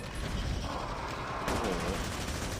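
Dense gunfire in Call of Duty Mobile during a zombie fight against a tough boss: a continuous, loud wash of rapid shots and mechanical clatter with no gaps.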